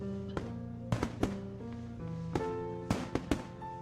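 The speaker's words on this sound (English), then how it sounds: "the whistle of the first fireworks ringing out before it exploded into the vibrant shower of blue against the night sky" Fireworks in the Katawa Shoujo video game: a series of sharp, close bangs and crackling bursts, some in quick pairs, over sustained background music tones.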